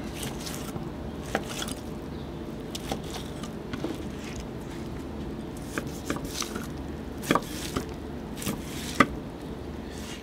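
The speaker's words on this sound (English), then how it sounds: "We're just gonna cut the whole way across the steak" A knife saws across a thick dry-aged tomahawk steak, making quiet, steady scraping cuts with a few sharp clicks of the blade against the board over a constant low background.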